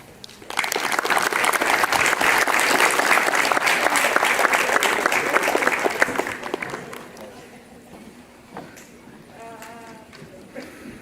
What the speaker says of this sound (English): let's take this moment to applaud them, to cheer for them, to show them our love and appreciation